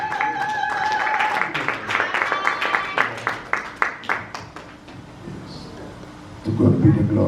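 A church congregation applauds and claps, a burst of scattered claps that rises then thins into separate rhythmic claps, with voices and a sustained tone early on and a louder swell of crowd noise at the end.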